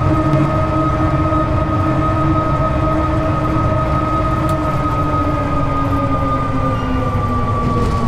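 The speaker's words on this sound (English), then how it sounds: "Whoa, look at this train! How exciting is that? Wow, that's a fast train." A fast train passes in Train Simulator 2013, a steady loud rumble with droning tonal hums that slowly bend downward in pitch, continuous for about eight seconds with no talking.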